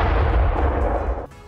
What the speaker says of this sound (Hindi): प्याज के बम हिल गए और संतुलन बिगड़ने से नीचे गिर गए जिसके बाद जोरदार विस्फोट हुआ